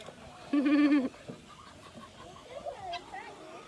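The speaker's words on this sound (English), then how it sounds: "You see our rooster there?" A rooster crows once, loud and close, among chickens in a farm coop, followed by softer clucking and faint bird calls in the background.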